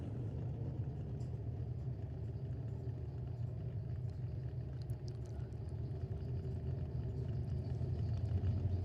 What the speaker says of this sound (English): A little bit rowdier sound when it starts running on the nitro.